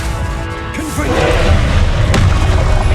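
A Confringo blasting spell in Hogwarts Legacy erupts in a loud, deep boom that rumbles on in a sustained roar of debris and impact noise, close and heavy.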